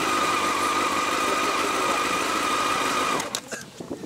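A motorcycle with a loud aftermarket Yoshimura exhaust idles steadily with a throaty rumble and whine, then cuts off abruptly near the end, leaving quieter clatter.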